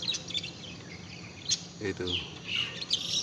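A budgerigar chirps in a colony aviary with short, bright tweets and squawks over a busy background of other birds and insects, while someone talks briefly.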